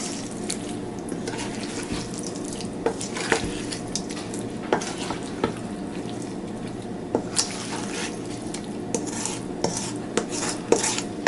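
Crab cake mixture being gently folded together with a utensil in a bowl, soft repeated scraping and light taps and clinks at an even pace, close by, with no talk.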